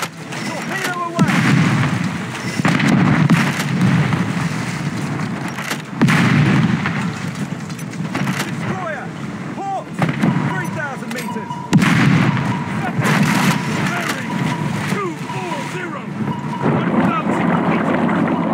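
A submarine fires a torpedo in War Thunder Mobile, with heavy booming launch blasts and rumbling water and engine noise throughout. Sharp surges recur every few seconds under game radio voices.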